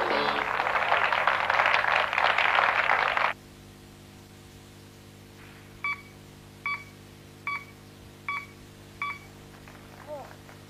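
Cardiac pacemaker transmitter tones sent over a telephone line: a loud burst of hissing static first, then a series of five evenly spaced, clean electronic beeps with a faint trailing sixth, each short and steady in pitch.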